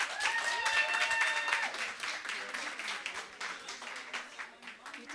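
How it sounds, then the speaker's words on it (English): Audience at a women's day event clapping for an honoree, moderately faint crowd applause with some voices and whoops mixed in, tapering off toward the end. "can we have a round of applause for Caitlin Krokamp?"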